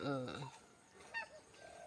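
A short burst of honking turkey calls opens, then quieter clucks and muffled talk follow in the background.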